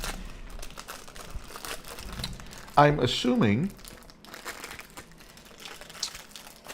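A plastic bag holding a box of small Magnum ice cream bars crinkles loudly for about a second, close by, while a person talks before and after.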